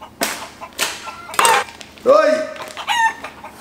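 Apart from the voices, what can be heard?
chicken clucking and rooster crowing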